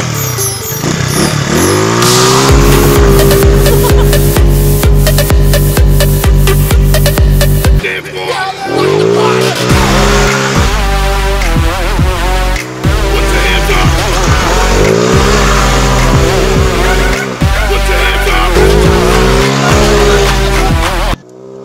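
A scooter with a variator is ridden hard and drifted, with a buzzing engine revving up in repeated rising sweeps, sharp tire squeal, and short drops between bursts, loud and close.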